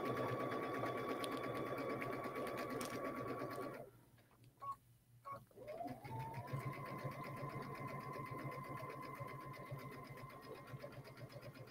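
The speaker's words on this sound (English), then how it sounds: "I'm just going to stitch along this line here." A sewing machine stitches fabric for a tote bag with a steady whirring hum, stops briefly midway with a few short bursts, then runs again evenly to the end.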